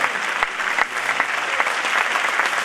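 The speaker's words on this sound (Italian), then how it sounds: "E appunto continuate con l'applauso" Theatre audience claps steadily at a comedy show while a performer climbs down a stage ladder, a dense sustained ovation with scattered sharper individual claps throughout.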